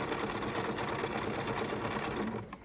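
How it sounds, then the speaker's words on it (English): A BERNINA sewing machine stitching quilt fabric with its dual feed engaged, a loud, steady rapid mechanical whir up close that slows and stops at the end. "You can hear the dual feed engaged."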